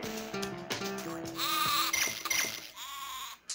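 A goat in the Spyro: Year of the Dragon video game bleats several times, clear and close, over light game music.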